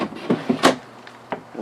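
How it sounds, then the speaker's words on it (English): A self-closing drawer in a 2019 Cedar Creek 36CK2 RV glides shut with a few soft close-range thuds and clicks, the loudest near the middle, with no voices. "It also has these self-closing drawers"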